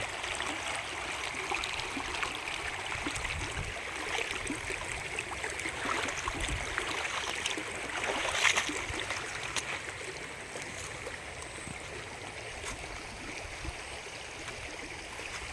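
Water flows gently along a wide canal, 20 to 30 metres across, with only a low stream running, in the late afternoon; a soft, continuous trickle and gurgle with faint outdoor ambience.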